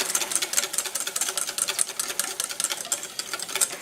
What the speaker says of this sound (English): continue to whisk and slowly add our butter